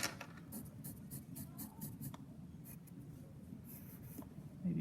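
Pencil scratching and rubbing across paper while drawing a backyard landscape, a steady close-up rasp of short repeated strokes with a few brief pauses.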